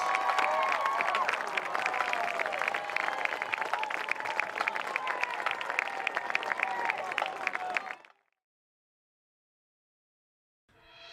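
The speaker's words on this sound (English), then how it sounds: "Ladies and gentlemen, let's give another round of applause to the Marching Indians" A crowd at a marching band championship applauds, a dense, loud wash of clapping with scattered cheers that runs for about eight seconds, then stops abruptly into silence before faint clapping returns at the very end.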